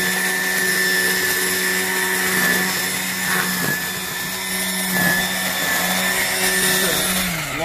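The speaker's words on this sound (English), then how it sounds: "Long overdue weed whacking." A Ryobi 40V brushless battery-powered weed wacker runs at high speed trimming grass and weeds outdoors, giving a steady, loud whine that holds throughout with slight dips as the string cuts through different patches.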